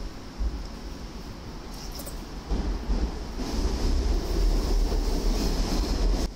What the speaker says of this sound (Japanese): さて1番線に来た新大阪行きが今度また留置線に入ってきました。